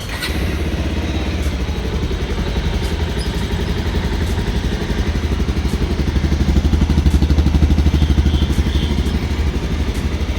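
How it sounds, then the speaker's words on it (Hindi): A Bajaj Pulsar 220F motorcycle idling steadily with a deep, throbbing exhaust note, close and loud, swelling slightly toward the end. "सो अभी हम सुनने वाले Pulsar 220F, the legend Pulsar 220F का एग्जॉस्ट नोट।"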